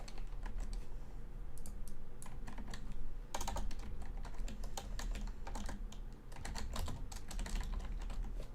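Quick bursts of typing on a computer keyboard, crisp clustered key clicks with short pauses between runs, close and clear with no talking.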